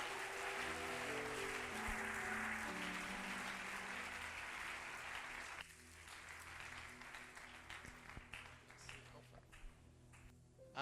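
A church congregation applauds as a pastor comes forward during worship, a steady, moderately distant wash of clapping that thins to scattered claps about halfway through, with faint voices underneath.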